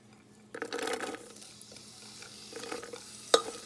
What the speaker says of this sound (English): Start frying onion and other ingredients.